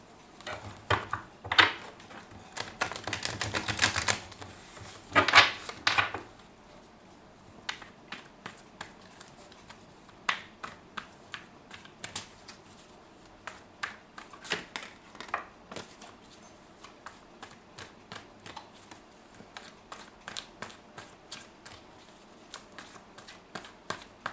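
Tarot cards are shuffled close up in a quiet room, with a few bursts of riffling followed by many soft, separate flicks and taps as cards are pulled and laid down one by one.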